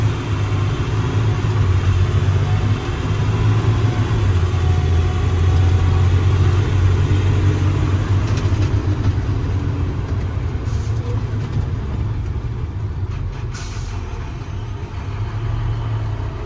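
Inside the cab of a 2013 International mechanics crane truck with 113k miles, the engine drones at a steady low rumble while driving, continuous and moderately loud with no talking.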